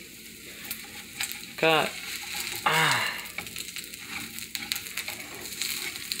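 Turkey bacon fries in a pan with a steady crackling sizzle and clicks of handling, close up; someone speaks a couple of brief phrases over it.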